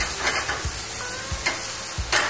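Prawns, size 16-20, marinated with salt and garlic, sauté in a hot pan with a constant close sizzle, broken by a few soft scraping stirs.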